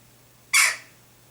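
A young crow, found during a bird rescue, gives one short harsh caw, close and loud, which cuts off quickly against otherwise quiet surroundings.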